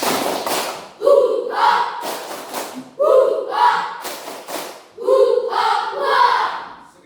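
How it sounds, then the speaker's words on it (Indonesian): Schoolchildren in a classroom perform a patterned spirit clap, with loud, close bursts of claps and thumps in a repeating rhythm, punctuated by short shouted chants from the group. "tepuk semangat"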